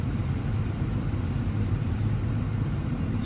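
A car engine idles steadily through a cold-start warm-up, a low, even rumble that holds constant and close with no revving and no voices.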